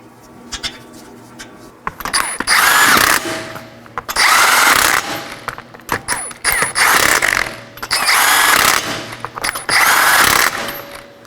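A power tool spins wheel lug nuts on a 2013-2019 Nissan Sentra snug in a crisscross pattern, four loud whirring bursts of about a second each separated by short pauses and faint clicks.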